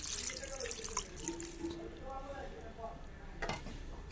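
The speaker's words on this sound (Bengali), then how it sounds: "ওই বাটি ধুয়ে দিয়ে দিলাম জলটা দিয়ে দিলাম" Water from a rinsed bowl that held ground poppy-seed paste poured into a cooking pan of mushrooms and peas, a steady splashing pour with faint drips, close by, with a voice murmuring underneath.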